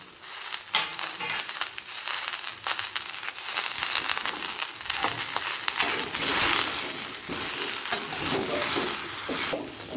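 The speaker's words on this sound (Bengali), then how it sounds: "ভালো করে মিশিয়ে নিয়ে হালকা দু থেকে তিন মিনিট ভেজে নেব হাই ফ্লেমে" Mixed vegetables for bitter gourd shukto fry on high flame, with a bright sizzle under repeated scraping and stirring strokes, close and busy, growing slightly louder midway, with no talking.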